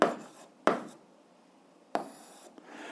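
Handwriting of algebra in a school exercise, a pen scratching across paper in three short bursts with quiet pauses between them, close and soft with no talking.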